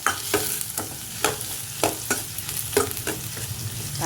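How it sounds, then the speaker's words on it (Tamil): Tomatoes and long-cut onions for a roasted chana dal sambar frying in a pan, with loud sizzling broken by regular spoon scrapes about every half second, close and without talk. "தக்காளி வதங்கட்டும்"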